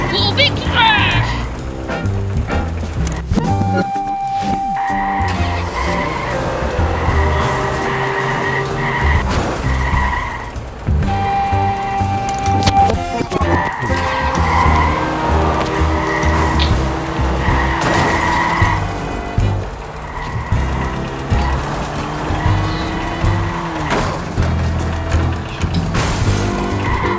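Cars in the mobile driving game Does not Commute skid with high, sustained tire squeals and repeated bumps of crashes, over an engine drone and game music, while someone talks throughout.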